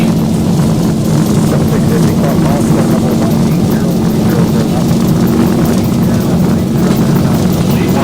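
Simulated Boeing 737 jet engines at takeoff thrust in X-Plane 12 produce a loud, steady, even roar with a strong low hum that holds unchanged throughout.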